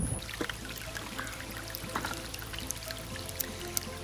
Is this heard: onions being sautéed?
no